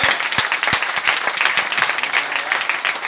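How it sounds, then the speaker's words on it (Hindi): A seminar audience at a network marketing talk claps together, a quick crowd of hands producing brisk, loud applause with sharp individual claps standing out throughout. "एक बार ताली बजा सकते हैं आप लोग?"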